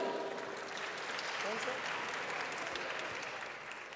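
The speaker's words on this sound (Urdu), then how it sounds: "جناب علی زریون، بھرپور تالیاں" Audience applause at a Urdu poetry recital (mushaira), a steady wash of many hands clapping that stays loud and even throughout, slightly tapering at the end.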